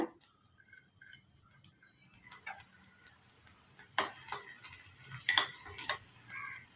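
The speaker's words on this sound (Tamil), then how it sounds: "இப்போ எண்ணெய் சூடாயிடுச்சு எண்ணெய் சூடானதும் வெங்காயம் சேர்த்துக்கோங்க" A soft sizzle of onion frying in hot oil, with occasional stirring scrapes and clinks from about two seconds on, fairly quiet and close.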